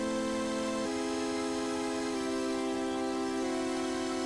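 A Serum synth preset with a phaser plays straight, sustained notes, a steady buzzy tone stepping between a few pitches at even intervals, fairly quiet and with no voices.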